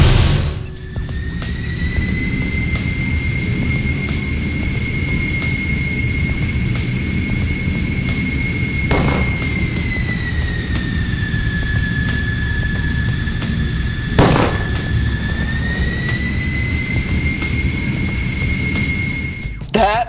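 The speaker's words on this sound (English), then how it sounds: "I think it's time I try out my jet." An Imaginext Teen Titans Go Robin toy jet plays its flight sound effect: a loud, continuous electronic engine whine that dips and rises slightly in pitch over a roaring rumble, lasting about twenty seconds with a couple of sharp clicks.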